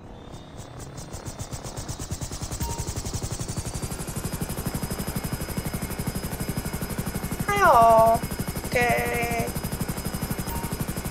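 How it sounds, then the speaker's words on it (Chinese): FH-1 Hunter helicopter in GTA V Online flying with a steady, loud rotor chop and engine whine throughout, joined by brief electronic beeps near the end. "开着完全没有开过的直升机出发。"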